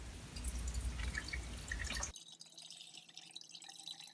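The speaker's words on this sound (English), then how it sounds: "So you just pour that through the bag." Homemade almond milk drips and trickles through a cotton nut milk bag, a busy, fairly full liquid patter that suddenly drops to a faint, thin dribble partway through.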